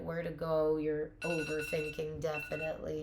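Phone alarm going off with a repeating electronic ringing tone, moderately loud and close, sounding under a person talking.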